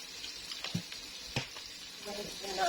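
Chicken pieces fry in a pan, a soft steady sizzle with a few sharper crackles and a louder hiss rising near the end, with a voice speaking quietly over it.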